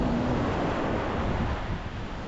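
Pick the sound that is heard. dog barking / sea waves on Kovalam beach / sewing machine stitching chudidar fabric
sea waves on Kovalam beach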